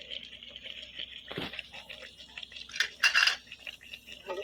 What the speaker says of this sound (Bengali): ভালো করে নেড়ে ছেড়ে দিব,